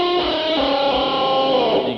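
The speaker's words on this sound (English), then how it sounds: "Another way to achieve that sound is to bang on your guitar" An electric guitar is struck on its body so its sustained, distorted chord wobbles in a fluttering vibrato, ringing loud and continuous for about two seconds with no talking.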